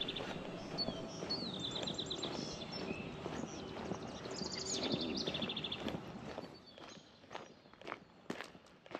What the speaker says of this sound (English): Birdies chirping.